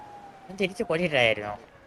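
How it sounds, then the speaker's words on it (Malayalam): A rising and falling siren wails briefly at moderate level, mixed in with voices talking over it. "ആ ഒരു സൈറൻ സൗണ്ട് കേട്ടോണ്ടിരിക്കണ്."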